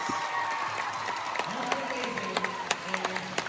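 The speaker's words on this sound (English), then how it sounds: "Give yourselves a round of applause" Crowd at a live stage tour event applauds, with scattered claps and cheers over a busy room, distinct sharp claps standing out near the end while voices murmur beneath.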